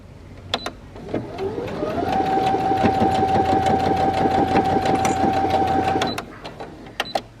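A sewing machine stitches a basting seam on a pants pocket, starting with a few clicks, then running at a fast, even hum for about four seconds before stopping, with quiet handling taps around it.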